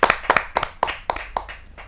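Applause from a kavi sammelan audience welcoming a noted poet onstage: close, loud bursts of hand clapping in quick irregular clusters, with no talk.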